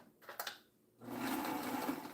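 A sewing machine with a presser foot fitted runs a straight stitch, starting after a near-silent second and settling into a steady, close mechanical whir.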